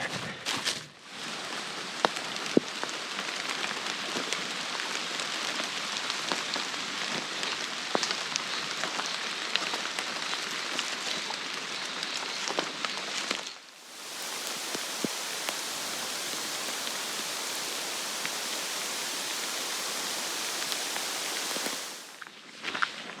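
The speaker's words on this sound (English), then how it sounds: "I can see a wall of rain just up ahead" Steady, dense storm rain hissing down on leaves and ground along a forest road in a swamp, continuous and fairly loud, with a brief lull midway before the downpour resumes.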